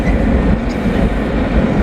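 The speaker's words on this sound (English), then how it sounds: "Not a long train, but a train." A short train rumbles steadily past close by, its railcars giving a continuous low roar with faint clickety-clack from the wheels and no pauses from start to finish.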